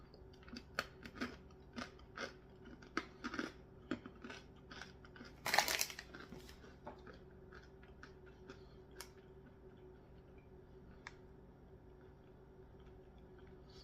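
Crunching of pet treats from a Try Treats subscription box, a series of sharp, dry clicks and crackles with one louder burst of crunching partway through, close and fairly quiet with no talking.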